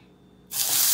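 A soy sauce chicken drumstick drops into a hot pan over medium heat, and after a moment of quiet a sudden, loud, bright sizzle erupts and holds steady, close by.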